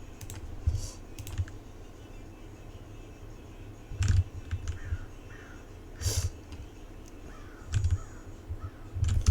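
Several loud crow caws ring out at intervals over quiet, scattered keyboard clicking.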